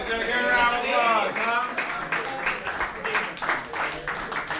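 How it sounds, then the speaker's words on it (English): Applause from a comedy roast battle audience in a New York club, a burst of clapping that rises after a host's voice and continues moderately loud for several seconds. "give a round of applause"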